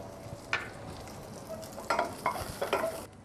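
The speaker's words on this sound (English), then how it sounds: "We're going to saute some chili to get it a bit of a flavor." Chili sautéing in pomace oil for a chutney, a soft continuous sizzle with a few sharp stirring scrapes clustered near the end.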